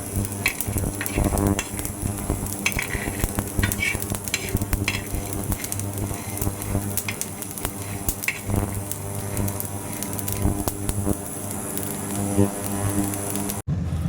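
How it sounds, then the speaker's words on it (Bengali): Whole spices and pieces of nutmeg dry-roasting in a dry pan while preparing mutton biryani, giving a steady soft sizzle and rustle with occasional stirring scrapes throughout. "গোটা মশলাটা, সেটা এবার একটু শুকনো খোলায় ভেজে নিচ্ছি"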